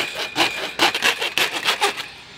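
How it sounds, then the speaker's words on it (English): A handsaw cuts a small V-notch into a PVC window sash divider in quick back-and-forth strokes, a series of close, raspy bursts with brief pauses between them. "I need to cut a little V-cut. It's PVC, so it cuts rather easily."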